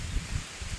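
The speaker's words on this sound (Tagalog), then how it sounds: "Lakas ng hangin eh." Strong wind rustles through a tomato patch, a brief, steady breathy rush with low gusty buffeting and leafy rustling, no voices.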